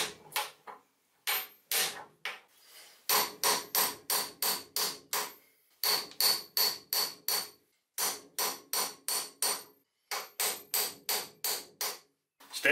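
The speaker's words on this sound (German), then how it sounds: "wir haben keine andere Wahl, als das drauf zu hämmern." A hammer strikes a bearing being driven onto the output shaft of a VW Golf 2 type 020 gearbox, landing in steady quick bursts of sharp metallic blows with short pauses between series.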